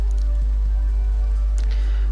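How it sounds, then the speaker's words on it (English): Steady rainfall in the Minecraft video game, a continuous even patter with a strong low rumble underneath and a few faint scattered clicks, with no talking. "That's raining, great."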